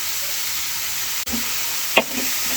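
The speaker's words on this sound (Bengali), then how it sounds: "এরপরে আমি নেড়ে চেড়ে দিচ্ছি।" Jackfruit seeds frying with chopped green chilli and garlic give a steady soft sizzle and hiss, with a couple of brief scraping stirs in the pan.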